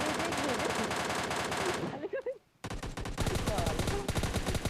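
Spray of MK14 rifle fire in a battle video game, dense rapid bursts of gunshots that break off briefly into a short gap and then resume hard and loud.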